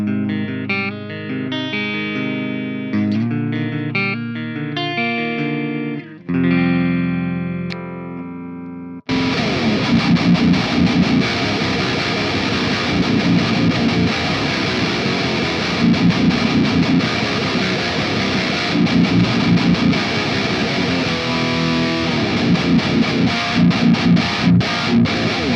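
Electric guitar chords ring out cleanly through a Powerball clean channel, then cut to a loud, heavily distorted rhythm part through a 5150 high-gain amp that continues steadily to the end.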